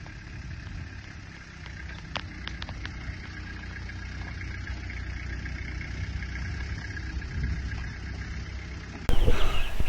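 Toyota BJ73 Land Cruiser with a naturally aspirated 3B diesel engine idling, a steady low rumble with faint intermittent clicks, growing slightly louder before a sudden burst of noise at the end.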